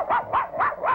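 Four quick, evenly spaced yapping barks from a cartoon dog in an arctic setting, close and clear, with no other sound.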